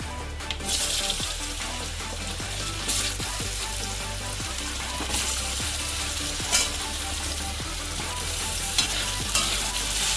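Panch phoron spices frying in oil before potatoes are added, a steady sizzle with occasional stirring scrapes and clinks, a close, continuous frying hiss without talk.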